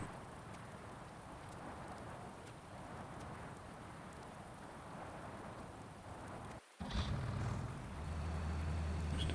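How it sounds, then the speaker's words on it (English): Thunderstorm weather in Farming Simulator 19, steady soft rain patter with a faint low rumble, then a brief dropout and a louder, fuller stretch of rain near the end. "thunderstorm snowfall"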